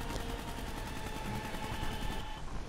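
Steady gunfire from a video game runs through the whole stretch, a dense continuous rattle of rapid shots at even loudness with no voices over it.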